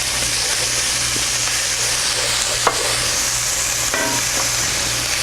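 Red bean sauce, black bean sauce, red pepper flakes and fermented black beans frying in a pan for mapo tofu, a steady close sizzle with occasional stirring scrapes and a few light utensil taps.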